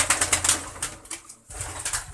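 Pigeons in a coop during the rainy season, including chicks, give a quick burst of wing flapping and shuffling, then a short pause and more soft rustling and cooing close by.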